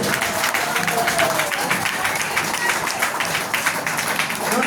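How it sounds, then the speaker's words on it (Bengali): An audience claps steadily at a company program event in Howrah: dense, continuous applause held at an even level throughout, with faint voices mixed into the crowd. "একটু জোরে একটু জোরে একটু জোরে হাততালি জোরে"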